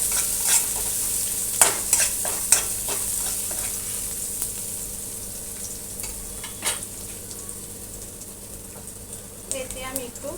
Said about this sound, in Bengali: একটু করে ভেজে নিই।